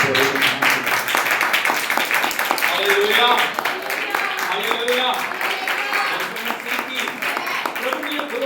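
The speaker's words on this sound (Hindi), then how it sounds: "ताली बजा के" A church congregation claps along during a sermon, a steady crowd patter beneath a preacher's loud, continuous voice.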